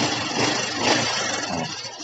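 A fuel-injected Honda Supra X 125 motorcycle engine, freshly cleaned ultrasonically after poor throttle response, revs close and loud in a dense continuous roar that swells and eases over about two seconds.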